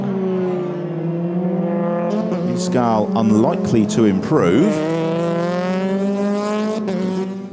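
A Euroformula Open single-seater race car at Paul Ricard accelerates hard over the finish line, its engine note loud and sustained with pitch sweeping up and down through gear changes, under a commentator's continuous talk.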